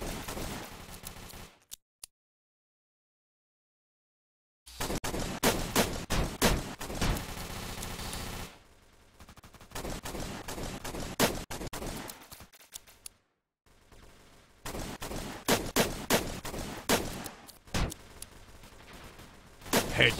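Pistol and other gunshots ring out in an online shooter game, repeated sharp cracks in irregular clusters separated by brief silent gaps, moderately loud.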